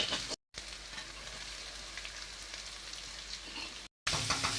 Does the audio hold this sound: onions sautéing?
yes